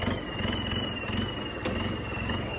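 A tractor engine runs at 2000 rpm, raised from 1700, while sowing wheat in a field, a steady loud drone with a constant high whine and no break in the sound.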